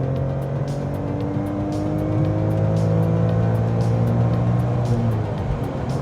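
A BMW M3 E46 with an SMG gearbox accelerates hard, its engine note rising steadily in a loud, continuous roar with a gear change midway, heard close and alone.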